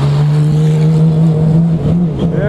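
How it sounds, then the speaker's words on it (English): Mercedes-AMG race car at the Daytona 24 hour race, a loud steady engine drone that holds one pitch before shifting near the end, close and continuous with no talk. "Look at this AMG, that's beautiful."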